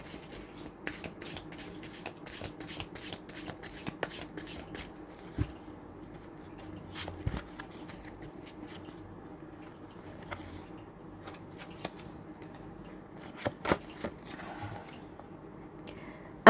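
Tarot cards shuffled by hand during a love horoscope reading: a quiet run of light, rapid crisp flicks and riffles with a few sharper taps, close and alone without talk.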